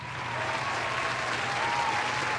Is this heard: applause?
yes